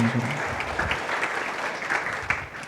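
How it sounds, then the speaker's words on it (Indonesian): A church congregation at a worship service breaks into loud, dense applause, a close, continuous wash of clapping lasting a few seconds. "Yang setuju berikan tepuk tangan meriah buat Tuhan kita."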